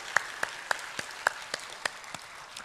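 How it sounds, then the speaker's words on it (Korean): Soft, rhythmic clapping at a Sunday church service welcoming newcomers: a string of about nine evenly spaced claps over a low background hum, faint and somewhat distant. "박수로 환영합니다."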